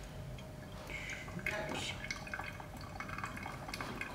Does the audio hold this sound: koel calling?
no